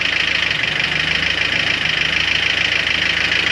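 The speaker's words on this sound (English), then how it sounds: "Don't worry about that ticking sound. That's just a piston slap." A Honda H22 engine idling with piston slap: a steady, loud mechanical hum with a fast, even ticking pulsing through it, close up and with no voices.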